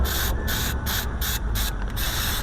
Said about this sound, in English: It's just brake cleaner